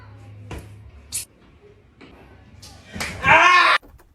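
A child slapped during play-acting: several sharp smacks of a hand against skin at close range, the last loudest, amid brief voices and background noise.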